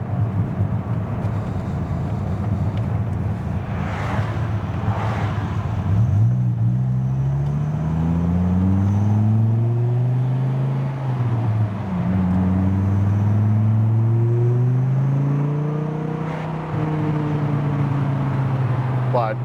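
A 1997 Dodge Viper's engine revs and pulls through the gears on a twisty road test drive, its loud, close growl rising and falling in pitch, with someone talking over it.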